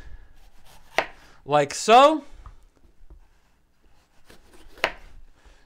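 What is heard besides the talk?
knife cutting a bell pepper on a board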